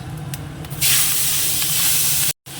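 Prawns hit hot oil seasoned with dried chilli, cumin and panch phoron, a sudden loud, steady sizzle and hiss that follows quieter handling noises, close by, then cuts out briefly near the end.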